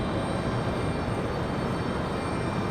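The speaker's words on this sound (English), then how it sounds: "We've got NetJets coming in from Texarkana, an Embraer Phenom 300." NetJets Embraer Phenom 300 jet arriving at Raleigh Durham International, a dense, loud, continuous roar of jet engine noise with no break.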